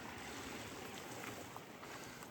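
A hiking-trail creek running at low to moderate flow makes a steady, faint wash of water.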